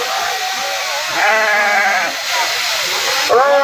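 Sheep bleat several times at close range, wavering cries rising over a noisy crowd of devotees at a Balumama religious gathering, with people talking in the background.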